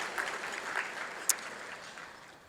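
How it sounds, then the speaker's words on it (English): Audience applause at the Santa Barbara State of the City event for the trustees just introduced, soft and fairly distant, a steady patter that fades out toward the end. "Clap for these hard-working people."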